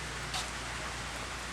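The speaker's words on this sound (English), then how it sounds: "Well, not really, just a gentle rain." Gentle rain falling outdoors in central Arkansas, a steady soft hiss of drops with no talking.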